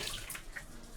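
Water splashing and running while dishes are washed at a sink, a steady close wash of liquid with brief brighter splashes throughout.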